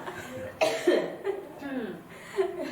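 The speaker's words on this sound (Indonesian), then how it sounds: "Batuk dulu enggak apa-apa." A few close coughs with some throat clearing, in short bursts during a teachers' academic supervision coaching meeting, with no other talk.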